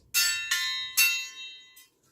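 Three quick strikes on a stacked cymbal ring percussion piece ring out bright and bell-like, each with a shimmering sustained tail, followed by a fainter fourth tap, close and clear with no talk.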